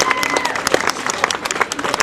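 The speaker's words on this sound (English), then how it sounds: "How about a nice big round of applause for a very pretty volunteer" Outdoor audience claps for a young volunteer at a park event by cold Arctic-style water, scattered individual hand claps with uneven rhythm, fairly close.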